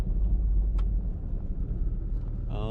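Steady low engine rumble of a Jeep Cherokee XJ slowly turning around on a city street, heard from inside with a faint brief chirp near the end.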